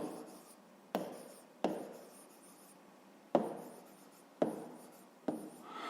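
A pen or chalk writes out a fifth-grade math exercise up close, a soft scratchy rubbing broken by sharp taps as each new stroke begins, faint and alone.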